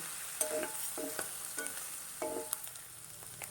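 Paneer sautéing in a pan for paneer chaat, with a steady soft sizzle and periodic spatula scrapes coming in regular strokes, fairly quiet and close, with no voices.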